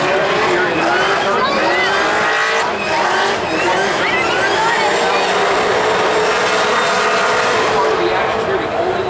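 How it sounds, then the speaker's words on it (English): A supercharged race car does a burnout at an oval raceway, its engine roaring loud and close with squealing, shrieking tires that hold steady throughout, while a voice is faintly heard under the noise. "Oh, that's the best burnout I've seen."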